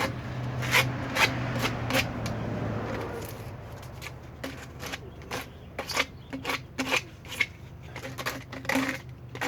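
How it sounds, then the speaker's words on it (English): Sandpaper rubbed by hand over freshly cut tube edges to take off burrs, quick repeated scratchy strokes in bursts, close and clear with no speech. "once they're cut, a little bit of sandpaper. Take off the burrs."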